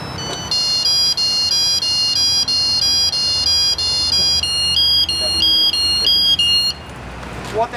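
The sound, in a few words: firefighter's motionless alarm device sounding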